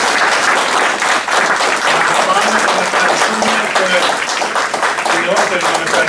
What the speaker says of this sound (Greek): θέλω να του δώσετε το πιο ζεστό σας χειροκρότημα